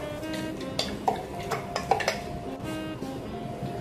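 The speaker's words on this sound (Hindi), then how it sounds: "अब इसे कढ़ाई में डाल के सबको मिक्स कर लेंगे" Spoon clinking and scraping against a kadhai while ground coriander and sugar are stirred together by hand, unheated, for Janmashtami prasad; light repeated clinks and soft scraping, close and moderately quiet.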